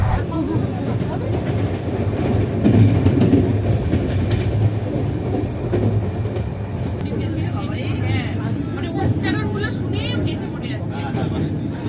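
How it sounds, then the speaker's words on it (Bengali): Loud continuous rumble and rattling clatter of the Sealdah–Puri Duronto Express passing through Uluberia station, steady throughout, heard from on board a 3rd AC coach. "বর্তমানে আমাদের ট্রেন উলুবেড়িয়া স্টেশনের ওপর থেকে ক্রস করছে"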